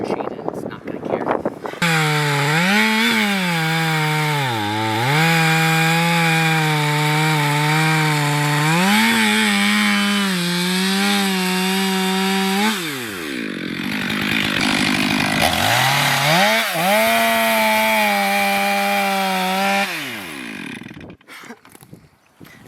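A chainsaw roars close up while felling a large tree, its engine pitch rising and dipping as it bites into wood, with a brief drop in revs midway before cutting resumes.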